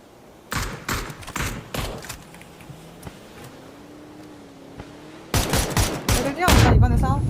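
Gunshots in a competitive shooter game, with several sharp separate shots early on, a quiet humming stretch, then a dense close burst of fire, with a player talking briefly.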